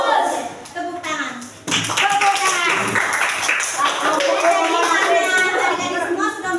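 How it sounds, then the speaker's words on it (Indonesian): Children in a classroom clap their hands together in a lively burst, with kids' voices and chatter mixed throughout. "Tepuk tangan."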